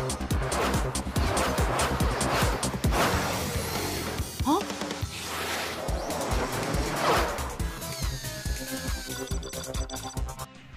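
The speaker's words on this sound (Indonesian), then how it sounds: "mobil Menda melaju dengan sangat kencang sehingga nggak bisa untuk dikendalikan" Racing car from the anime Go For Speed tears along out of control, its engine roaring and revving with sharp tire squeals and skids, layered with music and dramatic sound effects.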